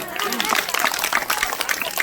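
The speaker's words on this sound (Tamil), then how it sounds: "ஓகே, எல்லாருக்கும் ஒரு கைதட்டு கொடுக்கலாமா?" Children at a Christmas celebration in a church setting receive a round of clapping, a brief dense patter of hands with voices mixed in.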